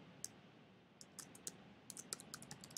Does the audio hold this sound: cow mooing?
no